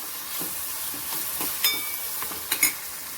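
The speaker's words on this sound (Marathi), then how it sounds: "आता कांदा टोमॅटो परतलाय थोडा." Onion, tomato and garlic fry in a pan with a soft, steady sizzle, broken by scraping stirs and a few sharper spatters near the end, close up and without speech.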